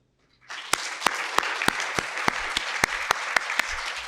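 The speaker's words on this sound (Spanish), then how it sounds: "un gran aplauso" Applause at the closing of a graduate student congress, starting abruptly after a short pause and continuing as a dense crowd clap with one person beating sharp, regular louder claps in a steady rhythm.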